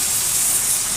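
Water poured into a pan of frying potatoes for Bengali chorchori with drumsticks, a loud steady sizzling gush lasting about a second with no talk.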